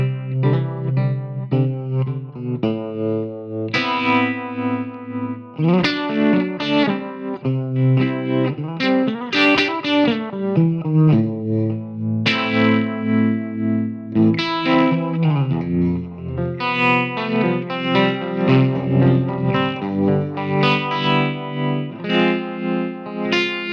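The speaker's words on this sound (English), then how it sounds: "Maybe I want to put some tremolo on there." Electric guitar played through a Line 6 Helix with a tremolo effect among other effects, a continuous mix of chords and single notes with steady, modulated sustain and no talking.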